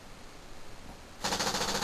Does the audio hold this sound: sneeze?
no